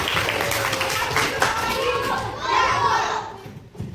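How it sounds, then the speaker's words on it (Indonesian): A classroom of children claps and cheers for a classmate during a math lesson, a dense burst of clapping mixed with excited young voices and shouts that swells and then fades near the end. "Tepuk tangan, Fajar."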